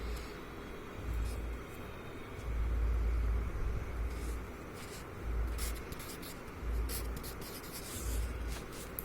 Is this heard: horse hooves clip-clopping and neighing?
no